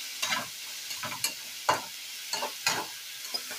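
A spoon stirs tomatoes frying with salt in a pan for doi chingri, several short scraping strokes over a soft, steady sizzle, close and clear with no talking.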